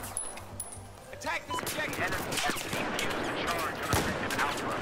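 Gunfire in a Battlefield 4 Rush match, a dense run of rapid shots and bursts with sharp cracks amid busy battle noise, loud and close, with a voice speaking briefly underneath.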